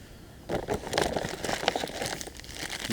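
A plastic food packet from a German military ration pack crinkles and rustles continuously for a couple of seconds, close by, after a brief quiet start.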